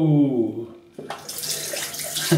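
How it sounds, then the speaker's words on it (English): A tap opens after a brief hum, and water then runs steadily and fairly loudly into a sink, splashing continuously to the end of the clip. "You can't slow the water down coming out the tap."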